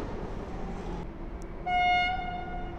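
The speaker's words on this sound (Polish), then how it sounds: "Wjeżdża Intercity Słowacki." An Intercity train arrives at Warszawa Zachodnia station after dark with a low, steady rolling rumble, and a clear horn tone sounds for about a second near the end.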